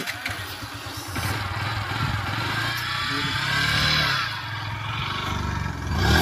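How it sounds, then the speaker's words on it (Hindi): A motorcycle engine strains and revs up while towing an empty car, loud and close, rising in pitch and intensity then easing and surging again, with no talk over it. "देखते हैं कि बाइक खींच पाती कि नहीं खींच पाती गाड़ी को"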